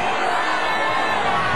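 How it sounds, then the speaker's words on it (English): Concert crowd yelling in protest: a dense, loud, continuous wall of massed shouting voices with no pauses, a short burst of crowd noise. "the crowd turned and started yelling"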